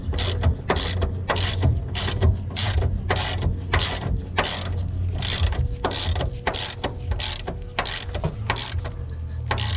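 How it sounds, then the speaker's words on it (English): Craftsman socket ratchet tightening a longer bolt on a BMW E90 325i rear coilover install, a fast run of sharp, evenly spaced ratcheting clicks up close. "Another Craftsman socket and a longer bolt did the job."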